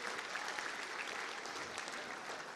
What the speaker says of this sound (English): How about a round of applause for Paul Burton?